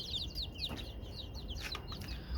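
Native chickens in a cage clucking and squabbling in quick, high, overlapping calls, fairly close, over a low background hum.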